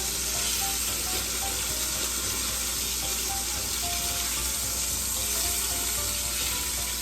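Chicken pieces sizzle steadily in tomato oil in a hot pan for Tuscan chicken, a close, even frying hiss with a faint watery crackle throughout, no voices.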